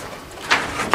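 Racing pigeons coo inside a loft in Atlanta, Georgia, with two short, soft throaty calls close by over a quiet background.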